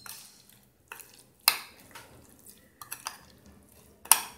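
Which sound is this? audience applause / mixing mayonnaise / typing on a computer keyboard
mixing mayonnaise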